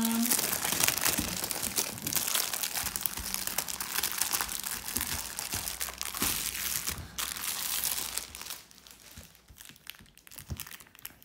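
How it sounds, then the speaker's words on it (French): Plastic wrapping is torn and crinkled off a magazine special issue, loud close rustling and crackling in bursts, tapering to lighter intermittent crinkles toward the end. "nous allons ouvrir ensemble donc, ce hors-série et on va découvrir ce qu'il contient"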